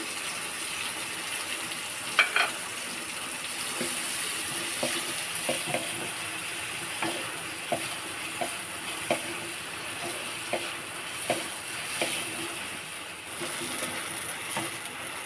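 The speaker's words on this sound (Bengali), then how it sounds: "পেঁয়াজ কুচিগুলো আমি ভেজে নিচ্ছি।" Chopped onions fry in mustard oil with a constant hissing sizzle, broken by the regular clack and scrape of a spatula stirring against the pan.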